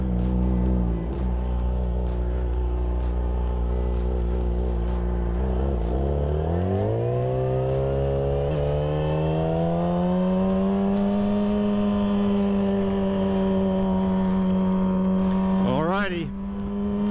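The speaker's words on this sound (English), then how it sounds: "Ignition on, clutch in, side stand up, and she starts first time." Custom Yamaha R6 sport bike engine firing up close by, its steady drone climbing in pitch as the revs rise and then holding a higher, even hum, with a brief extra rev near the end.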